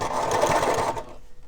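A semi-industrial sewing machine, portable but heavy, runs in a fast, dense mechanical whir at close range for about a second before stopping abruptly.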